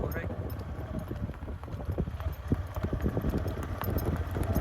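Steady clip-clop of horse hooves trotting on a hard surface, a quick regular beat close by, with people talking over it.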